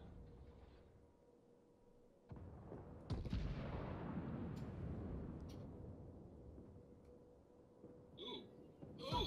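Warship guns fire in a naval video game, heard as deep booming blasts with long rumbling tails, layered and distant-sounding, with a few sharp cracks and faint voices in the background.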